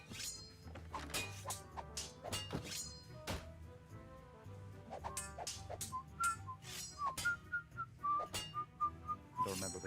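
A character whistles a simple melodic tune in the Tales of Monkey Island adventure game, Chapter 4, clearest in the second half, mixed with occasional thumps and clinks from the game.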